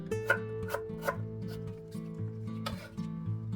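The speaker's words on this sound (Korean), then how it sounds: "생강 한 톨 썰어주고요." Ginger is sliced with a kitchen knife on a cutting board while making spring kimchi, with several quick, light cutting knocks heard close up over a continuous low background hum.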